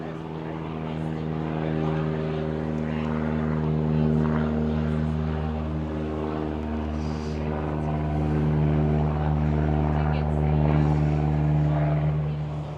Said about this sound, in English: We got a plane flying over too.